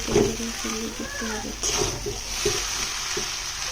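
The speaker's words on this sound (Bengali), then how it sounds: "আমি ভালো করে উল্টিয়ে পাল্টিয়ে এগুলোকে মিশিয়ে নেব" Maggi noodles stir-fried and tossed in a pan over medium heat, a steady sizzle with scraping stirs, heard under a voice and some music.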